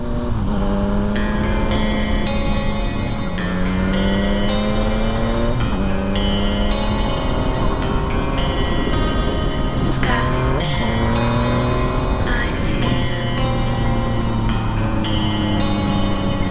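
A Yamaha MT-09 motorcycle engine, loud and steady throughout, with revs climbing and falling through several gear shifts and rev-matched downshifts.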